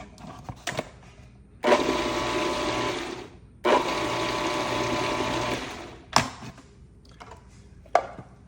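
Small kitchen appliance whirling fresh garden tomatoes into salsa chop, two loud sustained bursts of a few seconds each, followed by short pulses, with quiet gaps between.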